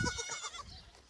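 A goat bleats once, a faint and distant wavering call in a village farmyard.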